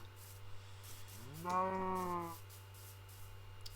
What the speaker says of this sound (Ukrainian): Корова, привіт.